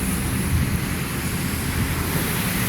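Moderate rain falling onto a flooded street, a steady, fairly loud broadband hiss and wash with no break and no voices.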